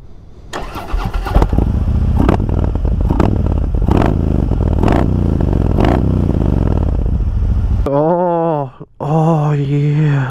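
A Harley-Davidson Road King engine running through aftermarket mufflers rumbles loud and close with rhythmic throttle blips, then cuts out near the end and gives way to a brief warbling tone.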